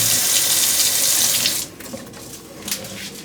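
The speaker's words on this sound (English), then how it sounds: "Just sprinkle a little bit of water on top of it just to keep it from burning at the bottom" Water splashes steadily from a tap or pour onto artichokes in a kitchen, loud and close, then stops abruptly after about a second and a half, leaving a few faint drips and clinks.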